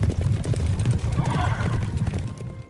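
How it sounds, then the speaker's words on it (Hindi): Horse hooves clop in a quick, steady rhythm outside an old ruin, moderately loud, with a faint whinny and some background ambience mixed in. "तभी अचानक बाहर से घोड़े की टाप सुनाई दी।"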